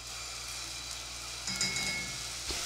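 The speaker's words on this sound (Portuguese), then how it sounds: "Deixo refogar um pouquinho." Homemade rice seasoning sautéing in pork lard in a pan, giving a steady soft sizzle throughout with a brief louder crackle and stirring scrape near the middle and end, no voices.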